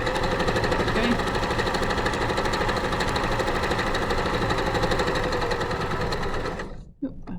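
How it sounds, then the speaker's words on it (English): A sewing machine runs fast along a long skirt seam, a loud, rapid, continuous needle rattle that slows and stops near the end, followed by brief handling noise. "it's going to sew really, really quickly, all the way to the edge"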